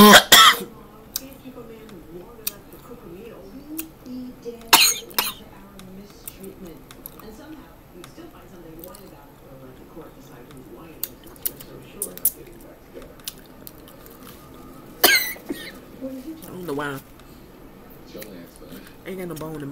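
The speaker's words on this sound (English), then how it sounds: "I ain't got no bone in my throat, I'm just coughing" Several throat-clearing coughs from a person eating a whole fish: a sharp burst at the start, another near five seconds and a louder one around fifteen seconds, close to the microphone with quiet mouth and handling noises between.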